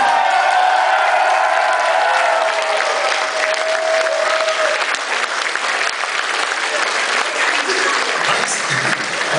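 Applause and cheering from a concert crowd at a show in Warsaw, with whoops and a sustained shout over dense clapping that stays loud throughout.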